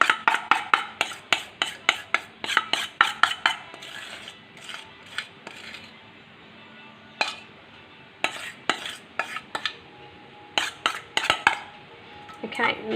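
Repeated sharp scrapes and clinks of a utensil against a bowl as chocolate icing for coconut bars is cleared out, coming in quick irregular bursts with short pauses, close and fairly loud, no talking.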